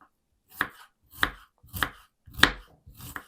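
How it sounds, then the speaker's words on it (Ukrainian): A knife finely chops an onion on a board: five crisp, evenly spaced chops about half a second apart, close and clear with silence between. "нарізаємо цибулю дрібненько"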